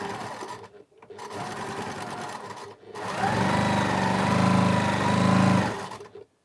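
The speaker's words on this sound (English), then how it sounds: "I'll start sewing them together and pressing them" A sewing machine stitches patchwork quilt fabric squares together in steady running bursts: two short runs separated by brief pauses, then a longer, louder continuous run before it stops.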